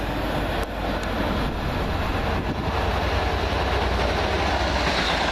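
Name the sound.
Class 56 locomotive 56-7306 train passing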